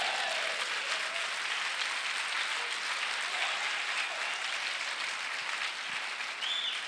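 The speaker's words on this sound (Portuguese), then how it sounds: "dê um aplauso a Jesus." A church congregation applauds steadily throughout, a broad, even wash of clapping from a sizeable crowd that holds at a constant level, with no voices standing out above it.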